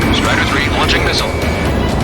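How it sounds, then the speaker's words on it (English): Loud, dense roar of a missile launching in a combat flight video game, a sustained broadband rush that stays strong for about two seconds, with a voice talking over it. "Strider 3 launching missile."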